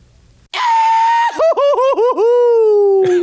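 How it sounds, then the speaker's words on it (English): The Goofy yell cartoon sound effect, a loud sustained vocal holler that breaks into a rapid warbling yodel before sliding down into a long fading wail. "The Goofy yell."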